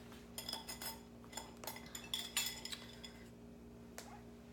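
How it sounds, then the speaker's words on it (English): Cooked vegetables are mashed inside a Pampered Chef Quick Cooker pot, heard as quiet, repeated metallic clinks and taps of a utensil against the cookware in an uneven rhythm. "I just was able to just completely mash them, no problem"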